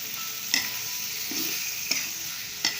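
Pork stir-fried in a pan for a spicy northern Thai stir-fry, with a steady sizzle broken by a few sharp spatula scrapes against the metal at regular intervals, close and fairly quiet.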